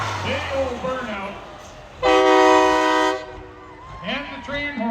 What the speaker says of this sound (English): And the train horn to boot